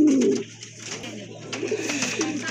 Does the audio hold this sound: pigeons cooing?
yes